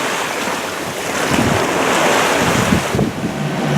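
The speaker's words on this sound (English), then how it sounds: "Sails fully up in about 13 knots of wind, 2 to 4 foot waves." Ocean waves and strong wind noise aboard a sailboat under full sail on the Atlantic in about 13 knots of wind and 2 to 4 foot seas, a loud continuous roar of gusts and rushing water.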